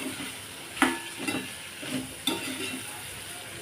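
Soaked chana dal is stirred and sautéed in a pan for a green chilli and cluster bean vegetable dish, with a soft sizzle under repeated scraping stirs close by.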